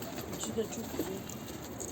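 Nuhudi pigeons give soft, low coos a couple of times over a constant background hum.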